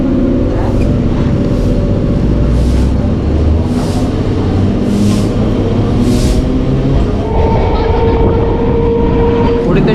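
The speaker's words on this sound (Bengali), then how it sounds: "একদম ট্রেন ছেড়ে দেয়" A Katwa local train pulling away from the platform at Hooghly station, a loud continuous rumble of wheels and carriages with rhythmic clicking over the rails, recorded close from on board.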